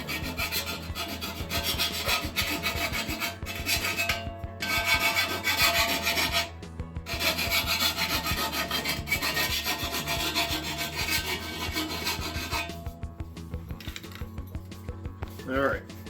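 A hand file rasps back and forth over a Corvette exhaust header to remove a burr, with repeated scraping strokes close up and brief pauses between passes.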